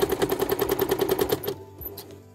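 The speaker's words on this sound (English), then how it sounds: "when I'm quilting backwards, I'm going quite a bit slower" A sewing machine stitches slowly in reverse while quilting. About a dozen evenly spaced mechanical taps come in a quick run, then stop, leaving a quiet pause with a faint click.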